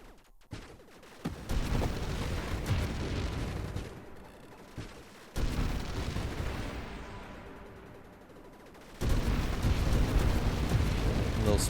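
Explosions burst out in the space shooter Nova Drift, played with a machine gun build. Three loud, crackling blasts come in sequence, each decaying into rumbling debris under rapid gunfire.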